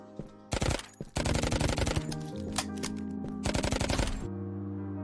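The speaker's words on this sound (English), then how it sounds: "I'll show you a clip of using the MAC-10 as well" MAC-10 submachine gun fire in the browser shooter cryzen.io, loud rapid bursts of automatic shots in several long strings with brief gaps, over steady game background sound.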